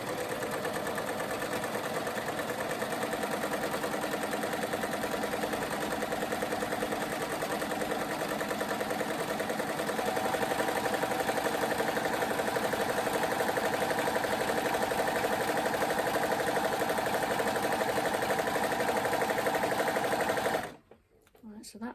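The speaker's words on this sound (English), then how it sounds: "I'm going to overlock all round the neckline" An overlocker sewing machine runs steadily for about twenty seconds while stitching all round the neckline of a top being remade into a muscle-back top. The whirring is close, continuous and even, with no voices, and it stops abruptly near the end.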